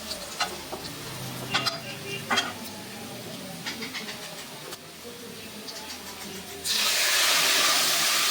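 A faint background hiss with a few light clicks, swelling into a loud, steady sizzle near the end as cumin hits hot oil.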